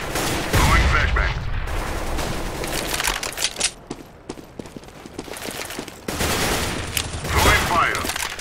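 Gunfire in the video game CS:GO during a matchmaking round, with bursts of shots and sharp cracks spread across the clip, loudest near the start and the end, and game noise filling the gaps between them.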